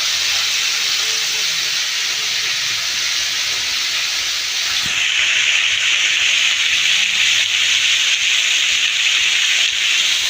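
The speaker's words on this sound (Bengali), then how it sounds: "অল্প আদা ঘষে দেবো।" Ginger rubbed against a grater in a home kitchen makes a steady, close rasping scrape that grows louder and coarser about halfway through. No one speaks.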